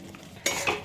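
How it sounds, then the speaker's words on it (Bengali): A spoon stirs fried pointed gourd through thick masala in a pan, making two quick scraping swishes over a faint sizzle, close by, with no talking. "দিয়ে একটু নাড়াচাড়া করে নেব।"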